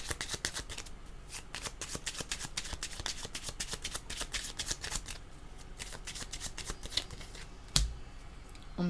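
Tarot cards being shuffled, a long run of rapid crisp riffling flicks close up, ending with a single sharp tap of the deck, no talking.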